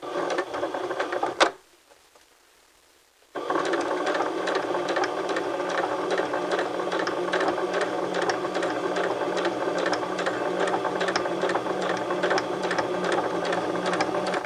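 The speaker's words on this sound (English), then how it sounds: "So insert a row of straight stitching just to the right of your basting." A sewing machine runs a row of straight stitching beside basting with rapid mechanical whirring. It stops briefly after a short first burst, then runs steadily and loud to the end.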